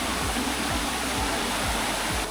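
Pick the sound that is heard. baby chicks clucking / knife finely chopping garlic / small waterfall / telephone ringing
small waterfall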